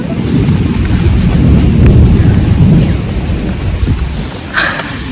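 Heavy rain pours steadily outdoors in a thunderstorm, with a loud, constant broadband roar and deep rumbling thunder throughout, plus a brief sharper burst near the end; no talking.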